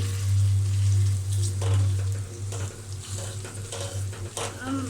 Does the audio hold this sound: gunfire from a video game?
no